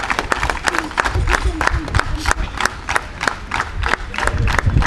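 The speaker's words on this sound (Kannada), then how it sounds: "ಜೋರಾದ ಚಪ್ಪಾಳೆ ಬರಲಿ" Crowd at a district Home Guards professional sports meet in Mangaluru claps loudly for the winning men's 4x100 m relay team, steady dense applause with sharp individual claps and some cheering voices throughout.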